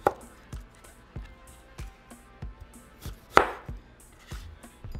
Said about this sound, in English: So I'm going to start by cutting the ends of my kiwis.